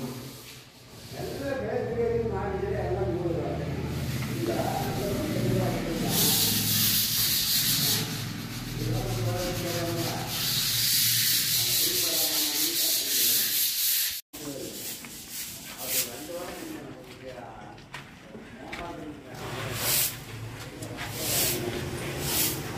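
A wall is sanded and scraped by hand before painting, with repeated rhythmic rasping strokes close by, some harsher scraping passes, and voices talking intermittently over the work.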